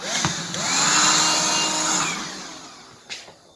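A Black and Decker Dustbuster handheld vacuum whirs up to a loud, high motor whine, holds for about two seconds, then winds down, with a short bump near the end.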